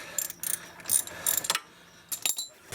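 A ratchet on a 3/8 socket cracks a bolt loose during mechanic work, giving close, crisp bursts of pawl clicking in several quick strokes with brief pauses between them, alone without talk.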